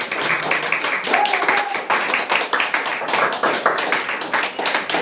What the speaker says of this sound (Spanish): Un aplauso al Señor si estás aquí